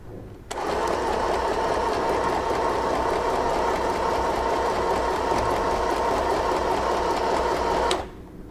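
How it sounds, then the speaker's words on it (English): An FHSM-519 sewing machine stitches in a steady, rapid mechanical whirr that starts abruptly, runs at constant speed for about seven seconds, then stops, close and loud. "rotate the hand wheel about 2 to 3 rounds and start to sew"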